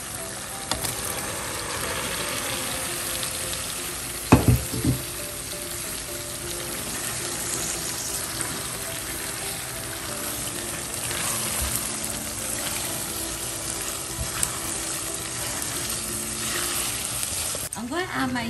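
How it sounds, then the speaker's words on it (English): Cooked dried snails go into a pan of hot oil and sizzle steadily throughout, with a brief clatter and stirring sounds partway through. "Now I'm going to add my cooked snails."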